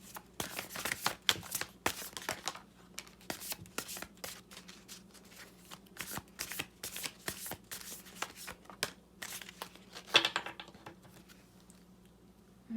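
Tarot and oracle cards are shuffled continuously at close range, a dense run of quick papery riffles and flutters with a few sharper snaps near the end, with no talking.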